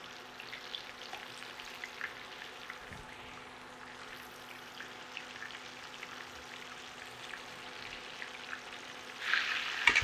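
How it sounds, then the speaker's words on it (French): A veal escalope sears in hot oil in a pan, crackling and spitting steadily at moderate volume, with a louder sizzling burst near the end when it is turned. "C'est vraiment de saisir l'escalope puis la retourner."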